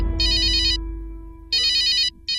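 A phone ringtone rings in repeated electronic bursts, three rings separated by pauses, loud and close over a faint low hum, with no voices.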